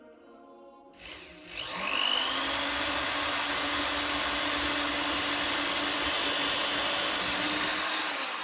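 A power drill starts up and whines steadily at high speed while boring into a small wooden part for a doll's wardrobe, loud and close, then cuts off.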